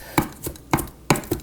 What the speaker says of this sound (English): Just kind of come in here and really just chop it all up.